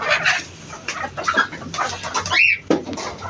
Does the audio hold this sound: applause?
no